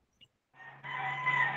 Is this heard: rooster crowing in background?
yes